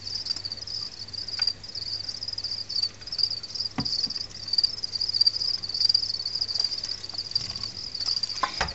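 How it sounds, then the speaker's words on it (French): Crickets kept for breeding in an indoor insect enclosure chirp in a continuous high-pitched trill, steady and close, with a low hum and a few knocks underneath. "Ici on a les grillons pour la reproduction."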